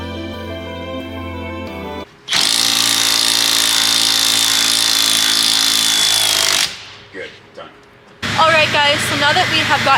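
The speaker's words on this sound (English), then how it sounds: "now I am going to put the bolt back in and get that all tightened." A power tool tightening the steering wheel bolt on a Camaro ZL1, a loud, harsh, sustained buzzing burst lasting about four seconds, with voices before and after it.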